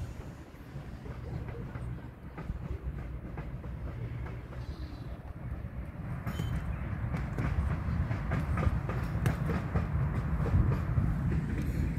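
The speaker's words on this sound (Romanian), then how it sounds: "Tramvaiul." A tram rolls past on its rails, a continuous low rumble with faint clatter that grows louder toward the end, outdoors along a city street with some voices in the background.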